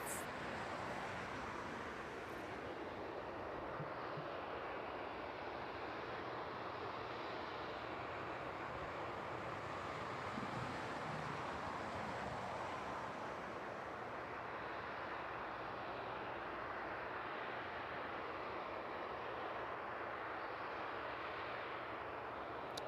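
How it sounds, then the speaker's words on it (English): A Jet2 airliner inbound from Tenerife on night final approach to East Midlands Airport gives a steady, broad distant engine roar that holds evenly throughout, with no talking. "And making its way on to finals now is that Jet2 service in from Tenerife."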